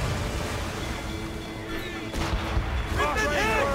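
Ship cannons fire in the video game Assassin's Creed Rogue, dull heavy booms over a constant roar of wind and sea, with crew voices shouting in the game throughout.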